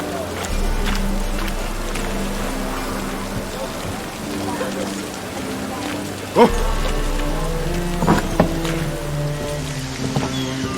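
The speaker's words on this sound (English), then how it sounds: "Witches have conjured rain." Steady heavy rain falls and patters on a surface, loud and continuous throughout, with a few louder thuds and splashes mixed in and no talk.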